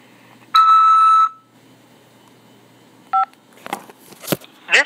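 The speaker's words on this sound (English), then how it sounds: "After the beep, press 5 to accept this call." Telephone keypad tones on a prison call-acceptance line: a long steady dual tone, then a brief keypad beep, followed by scattered clicks and handling noises, with no talking.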